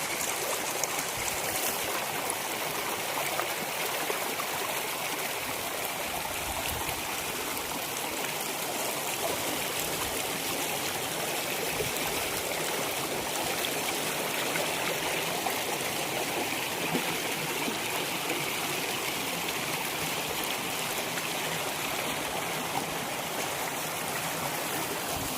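Water pours steadily over a dam waterfall in a Konkan village, a dense, even rushing roar that holds without a break for the whole stretch, close and loud with no voices.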